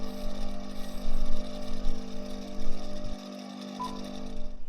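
Black opal pressed against a spinning 280-grit cutting wheel for final shaping, giving a steady loud motor whine with grinding contact that swells and eases and stops briefly partway through.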